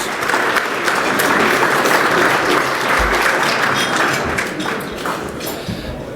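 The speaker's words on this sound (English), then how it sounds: "let's give one more round of applause to our Scholar Athlete teams" Sustained applause from an audience honoring Scholar Athlete teams at a celebration event, steady and full throughout, tapering slightly near the end.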